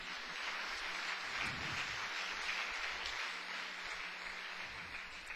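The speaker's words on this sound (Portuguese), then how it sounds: "Uma salva de palmas para o Senhor Jesus." A church congregation applauds for Jesus during a sermon, a soft, continuous wash of distant clapping with no clear individual claps.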